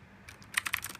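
A HyperX Alloy FPS mechanical keyboard with Cherry MX Blue switches clicks under typing, a quick burst of sharp, close keystrokes following a faint start.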